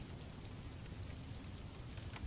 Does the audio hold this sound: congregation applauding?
no